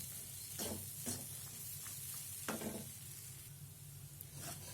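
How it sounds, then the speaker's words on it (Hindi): Chana dal dry-roasting in a kadhai, with a steady hiss and a few sharp spatula scrapes close by as the grains are turned. "इस तरीके से ये दाल भून के पूरी तरीके से ड्राई हो जाएगी"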